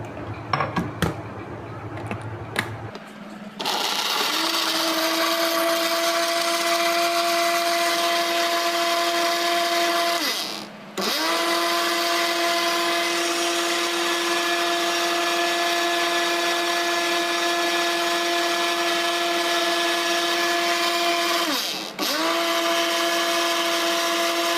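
A kitchen blender grinds an Oreo, banana, sugar and milk shake, running loud and steady with a high whine for about twenty seconds, briefly dipping twice as it pauses, after some handling clatter at the start.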